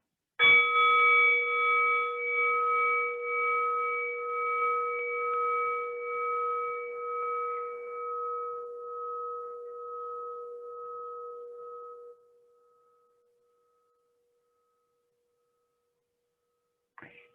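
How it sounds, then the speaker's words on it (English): A meditation bell struck once, ringing with a clear, pure tone and gentle wavering pulses, then slowly fading over about twelve seconds into silence. "we can hear this just in the sound of a bell"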